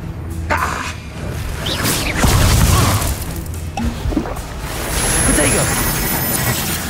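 A Confringo blasting spell goes off in the Hogwarts Legacy video game as a deep boom with a dense rumbling burst near the middle, among other whooshes and impacts and continuous game noise.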